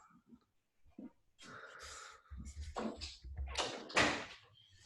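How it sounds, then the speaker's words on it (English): An office door closes with a sliding rumble followed by a few knocks and a heavier thud, close by, amid faint breathing and shuffling. "I'm going to close my office door"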